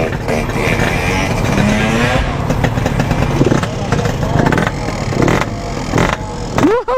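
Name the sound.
Yamaha RX King motorcycle engine revving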